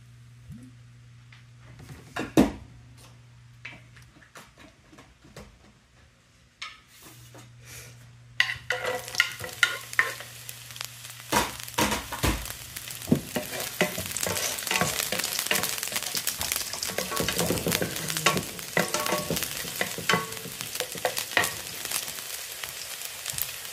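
Chopped garlic frying in olive oil in a pan, a light crackle at first that builds after several seconds into a steady, dense sizzle with scattered pops and stirring clicks, close and alone with no talk.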